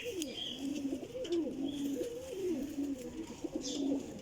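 Teddy Golden flying pigeons, a champion high-flying breed, coo in soft repeated rolling phrases close by, a steady low burble with faint background noise and no speech.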